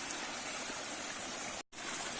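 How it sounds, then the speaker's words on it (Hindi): Cold mountain stream water rushing downhill through a forest, a steady close, broadband flow with a brief dropout near the end. "किस तरीके से यह पानी नीचे को अपना रास्ते जा रहा है"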